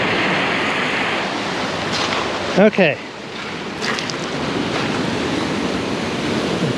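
Ocean surf washes continuously onto a Northern California beach as the tide comes in, with wind buffeting the microphone, a brief spoken word and a short squeaky burst midway.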